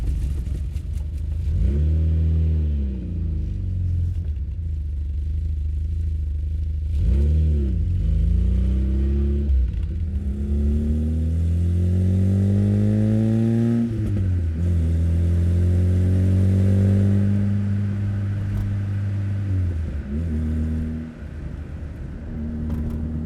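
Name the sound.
classic hatchback car engine accelerating while driving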